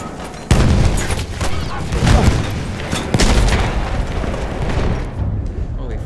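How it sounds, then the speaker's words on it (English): A grenade blast in Battlefield 1 during a fight at Tahure, heavy booming bursts with rumbling debris and distant battle noise, a player's voice talking over it. "threw a grenade"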